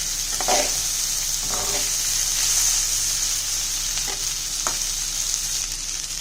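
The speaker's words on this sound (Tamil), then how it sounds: "பாஸ்மதி ரைஸ் உடஞ்சிடாமல் லைட்டாக கிண்டிக்கோங்க" Basmati rice frying in a pan over medium flame, stirred gently so the grains stay whole; a constant loud sizzle runs throughout, broken by a few soft scraping stirs.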